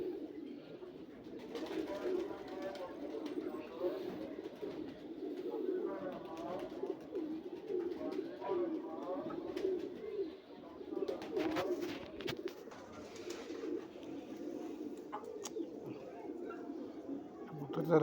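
Pigeons coo in a low, repeated rhythm, a pair of Lal Badshah birds in moulting condition, with steady warbling calls close by and faint background noise throughout.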